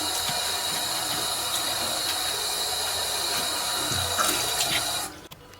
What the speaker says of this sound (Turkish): Önce bir elimi yüzümü yıkadım.